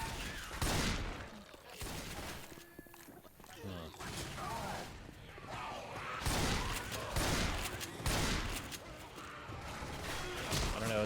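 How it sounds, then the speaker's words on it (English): Gun reloading in Left 4 Dead 2 on the Devil Mountain custom map: mechanical clicks and clacks mixed into dense bursts of rapid gunfire, loud and close throughout. "Reloading."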